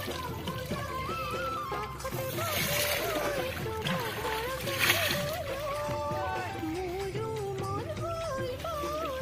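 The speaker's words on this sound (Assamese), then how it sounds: "এতিয়া গৰু গা ধুৱাই দিম" Cows being bathed in a Brahmaputra river channel, with water splashing and sloshing throughout while people talk and call out over it.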